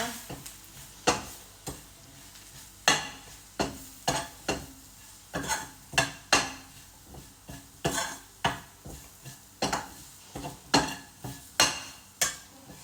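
A spoon scrapes and knocks against a pan while curry is stirred, close and repeated in brisk irregular strokes about every half second over a quiet low simmer.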